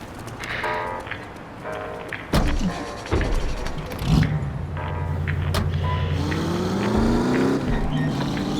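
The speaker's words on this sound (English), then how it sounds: "That's my car there. I'll drive." A car in the WWII-era action game The Saboteur starts up with a few thuds and clunks, then its engine rises into a steady, revving drive with climbing gear whine, loud and close amid game ambience.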